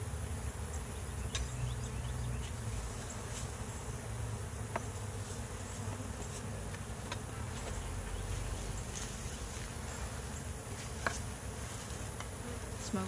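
Honey bees buzzing around an open hive being worked with a brush and smoker, a dense, steady swarm drone close by, continuous with no talk.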